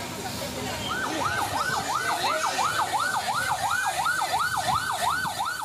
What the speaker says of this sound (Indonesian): petugas mengerahkan 3 unit mobil pemadam kebakaran